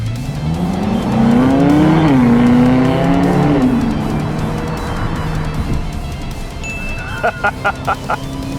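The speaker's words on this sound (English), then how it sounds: "It's definitely revving a lot higher. It's making a lot more noise." A Ferrari engine in sport mode revs up high and holds, then settles, followed by a short series of sharp, rhythmic bursts like quick gear shifts or pops.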